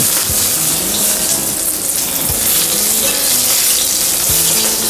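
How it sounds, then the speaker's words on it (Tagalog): Milkfish (bangus) frying in oil in a pan as the final batch, a loud, steady sizzle with scattered crackles and a few low clunks of utensils, no talk. "ito na po yung last batch ng ating pritong bangus"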